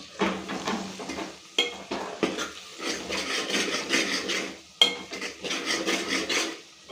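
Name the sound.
stirring tamarind leaf dry fish curry with ginger in pan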